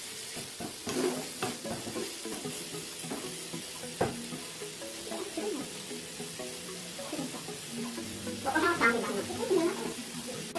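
Cashew fruit stir-fry being stirred in a pan while its liquid cooks down, with steady sizzling and repeated scrapes and knocks of a utensil, close by, plus a brief spoken word.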